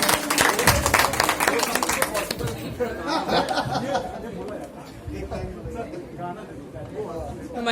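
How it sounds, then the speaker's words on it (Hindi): An audience at a devotional bhajan gathering applauds, a dense burst of clapping at the start that fades into crowd chatter and scattered laughter, with voices talking throughout. "जोरदार तालियां मनीष भैया के लिए"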